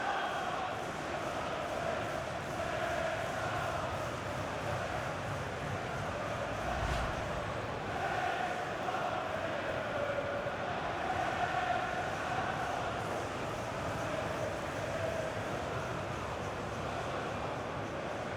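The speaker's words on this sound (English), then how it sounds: "the crowd applauding as he's been taken off the winger, and his teammates applauding as well" Stadium crowd in the EA FC football video game applauding a substituted winger, a steady broad wash of clapping and murmur filling the whole stretch at even loudness, with no talk over it.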